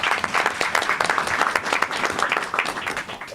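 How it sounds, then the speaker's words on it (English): An audience at a report release event on police use of force bursts into applause, many hands clapping loudly and steadily in a thick, close wash for a few seconds. "So give a round of applause to them."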